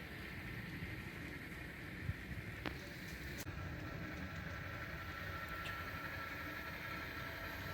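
Model train running over a scenic layout section, a faint, steady rolling rumble and hiss with a few soft clicks from the track, low in level and continuous with no voices.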